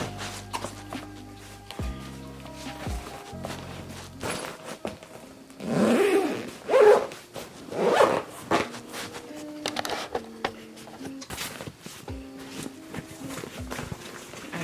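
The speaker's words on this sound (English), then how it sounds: "So zip up my suitcase." A carry-on suitcase is zipped shut, with a few loud, close scraping zipper pulls in bursts amid quieter rustling and handling sounds.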